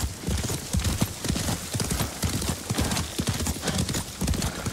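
Horse hooves clip-clop at a steady riding pace in Ghost of Tsushima, close and continuous, with a brief whinny and faint speech in the background.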